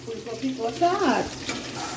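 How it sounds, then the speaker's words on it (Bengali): Cauliflower and potatoes fry in a pan with a close, continuous sizzle, while a brief voice-like sound rises and falls over it midway. "ফুলকপির আলু ভাজা হয়ে গেছে ফুলকপি ভাজা চলছে"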